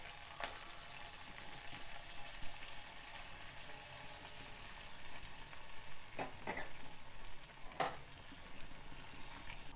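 Green chilli tempering for rice pongal sizzles and fries steadily in a pan, a soft, continuous crackle with occasional faint stirring clicks.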